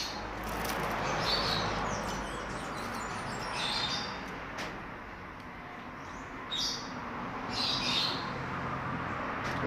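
A pet bird in a cage, being moved to a brand new cage, lets out short, bright chirps every couple of seconds over a steady rushing background noise.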